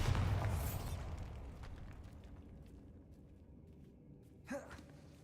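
A Bombarda spell explodes in the Hogwarts Legacy video game. A loud, booming blast opens and its roar fades slowly, followed by a brief breathy gasp near the end.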